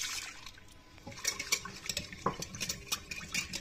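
Eggs being stirred with sugar in a bowl, a utensil clinking and scraping in quick uneven strokes with wet sloshing, close and fairly quiet.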